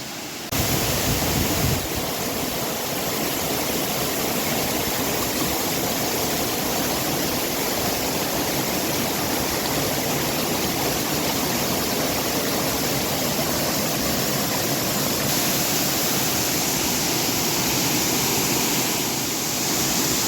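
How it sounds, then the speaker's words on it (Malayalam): A secluded waterfall crashing down in a quiet forest spot, a loud, constant roar of falling water that holds unbroken throughout with no voices over it. "ഇവിടെ വന്നിട്ടുണ്ടെങ്കിൽ ഈ വെള്ളം ചാടുന്ന സൗണ്ട് അല്ലാണ്ട് നമുക്ക് വേറെ ഒന്നും കേൾക്കാനില്ല"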